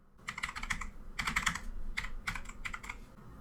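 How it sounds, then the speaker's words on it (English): Quick, close keystrokes clatter on a computer keyboard in four short bursts of typing, separated by brief pauses in a quiet room. "And now here type timedate.cpl"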